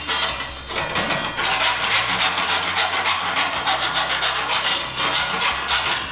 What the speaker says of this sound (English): and then run our file